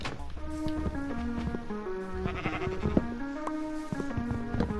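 Sheep bleat in the Minecraft video game, with several short, repeated bleats over a busy mix of in-game tones and background sounds.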